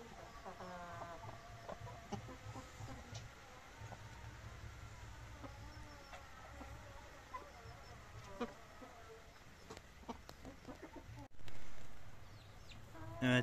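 Chickens shut in their coop at dusk as rain sets in give soft, scattered clucks, faint and fairly distant, over a low insect-like buzz and quiet background hum.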